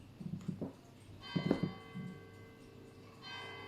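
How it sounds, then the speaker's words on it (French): A few church bell strikes ring out with a long, shimmering decay, heard at a moderate distance over faint background noise. "Ah, j'adore les cloches."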